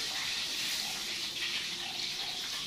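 Steady rushing hiss of water from a running high-pressure water pump, continuous and fairly close, with no voices.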